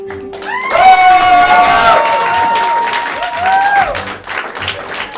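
An improv theatre audience claps and cheers loudly amid crowd noise while a sustained, warbling tone rises over it, with voices mixed in.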